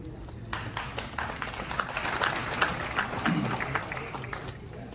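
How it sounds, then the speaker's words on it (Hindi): Audience clapping at a celebration party for state civil service exam toppers, steady applause filling the room for several seconds with a voice speaking faintly underneath. "जोरदार तालियां।"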